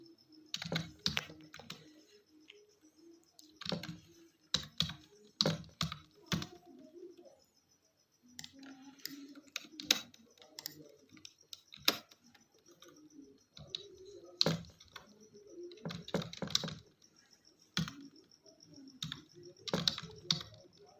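Someone types on a computer keyboard during a Microsoft Word lesson, with clusters of quick key clicks in bursts separated by short pauses. Faint bird cooing sounds in the background.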